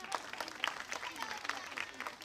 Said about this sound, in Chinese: 掌声鼓励给弟弟